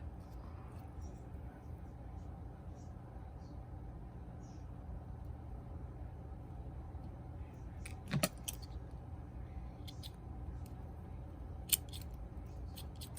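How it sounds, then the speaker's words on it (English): Scissors snip off excess ribbon while a fabric flower is being made, giving a couple of short, crisp metallic cuts close by over a low, steady room hum. "Cut off your excess."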